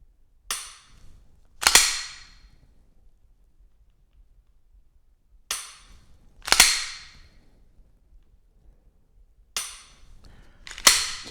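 Dry-fire trigger presses on a pistol fitted with a Mantis X10 Elite training sensor: six sharp, close metallic snaps in three spaced pairs, with near silence between them.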